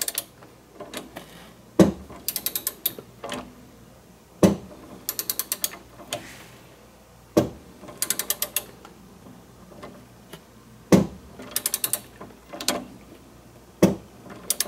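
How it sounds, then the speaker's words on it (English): A torque wrench tightens the 19 mm sway bar bushing bolts on a DeLorean to 55 foot-pounds, producing close, crisp bursts of ratchet clicks in repeated short runs separated by brief pauses, with single sharp clicks between them. "I've got my torque wrench here, and we're going to go ahead and have my torque wrench set at 55"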